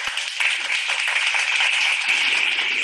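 Audience applause at a product presentation for Riway International, a dense, sustained wash of many hands clapping at once, loud and even throughout with no voices over it.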